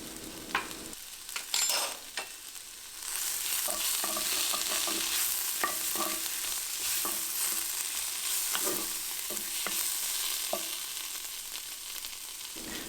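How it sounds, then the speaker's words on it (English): A spoon stirs an oregano, cumin and salt mixture for chicken tinga, with close scraping and clinking strokes over a soft steady hiss and no voices. "and we'll give that a mix."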